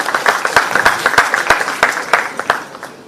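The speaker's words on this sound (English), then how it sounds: "Good round of applause." An audience at an indoor event gives a brief round of applause, a scattered patter of claps that tapers off after about three seconds.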